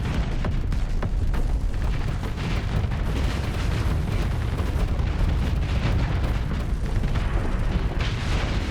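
Continuous dense rumble of missile fire and explosions in a strategy video game, loud and sustained with repeated booms blending into a roaring wash, no talk.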